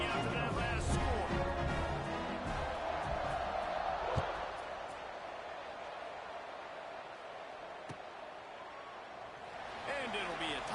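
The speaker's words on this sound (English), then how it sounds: "this crowd is buzzing after that last score" Stadium crowd at a college football game, a loud steady buzz of many voices filling the space, swelling slightly at the start and end, with a few sharp thumps and a commentator talking over it.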